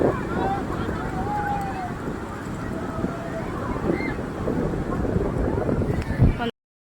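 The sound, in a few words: sea waves and wind at the beach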